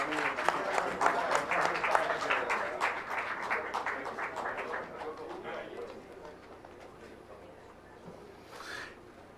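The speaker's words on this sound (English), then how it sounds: "A big round of applause for him" Audience applause at a medical conference felicitation ceremony, strong clapping at first that thins and fades over several seconds, with a brief murmur near the end.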